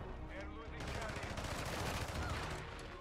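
Dense, continuous automatic gunfire in the shooter game Call of Duty: Modern Warfare II, rapid overlapping shots and bursts filling the whole stretch at steady loudness.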